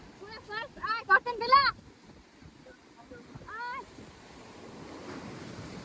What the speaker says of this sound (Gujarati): અત્યારે પવન બહુ ચડી ગયો છે એટલે મોજા પણ વધી ગયા છે.